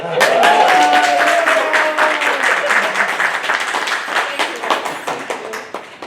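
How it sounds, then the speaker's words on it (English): Applause from an audience at a community engagement meeting, loud and dense at first, then thinning into scattered individual claps over several seconds, with a voice briefly heard near the start. "How about a little round of applause for Miss Renata"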